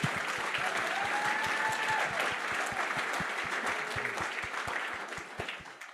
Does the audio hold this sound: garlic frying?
no